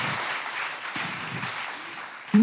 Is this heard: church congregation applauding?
yes